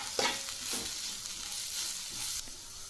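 Bitter gourd sautéing with peanut powder, red chilli, turmeric and salt: a dense hissing sizzle with a few soft stirring scrapes, close but fairly quiet, no talking.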